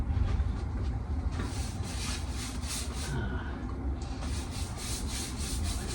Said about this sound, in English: So now we get our brush and our rust treatment, and we'll just lay it on there.